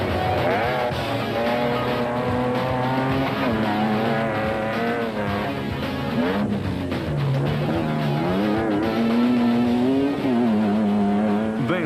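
The Castrol Toyota Hilux rally truck races in a 2007 desert rally, its engine screaming continuously and loudly through shifting revs, with gear changes and rising pitches over a constant roar.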